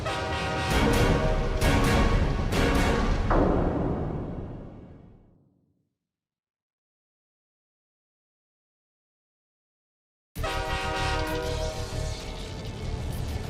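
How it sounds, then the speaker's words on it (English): A loud, rumbling train in an animated cartoon roars past with a blaring horn, then fades into complete silence before the heavy rumble abruptly returns. "That's a train coming!"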